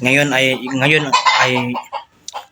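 Chickens cluck loudly and close by in a busy, overlapping run of calls, tapering into a few softer clucks.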